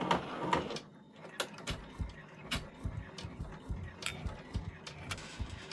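A 10-needle embroidery machine stitching a freestanding design, giving a quick irregular run of mechanical ticks and clacks with soft motor whirr, close and fairly quiet.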